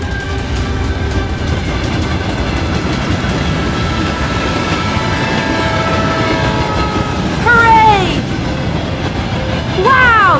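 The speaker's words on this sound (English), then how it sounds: "and the train will change its way" A train in a children's cartoon rumbles steadily along the tracks with a continuous clatter, while rising and falling whistle-like tones and screeching sweep in near the end as it switches direction at a fork.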